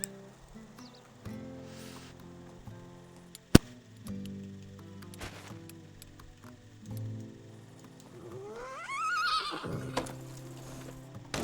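Horse in the game Medieval Dynasty neighing with a bright, rising whinny near the end, over steady clip-clop hoofbeats and a soft rain-like patter, with no talking.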